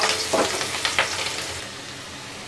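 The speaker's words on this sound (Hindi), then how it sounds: "स्लो फ्लेम पे इसको फ्राई करेंगे हम, तो ये जो हमारी अनियन है ना ये अच्छे से बिल्कुल सॉफ्ट हो जाएगी।" Chopped onions fry in hot oil on a medium-to-slow gas flame for lauki kofta curry, giving a steady, close sizzle with a few brief stirring scrapes near the start.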